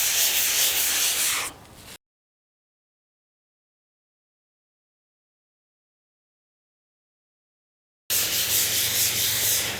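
A kitchen scrub pad rubs blue patina off a metal surface in quick, close back-and-forth scrubbing strokes, heard briefly at the start and again near the end with silence between.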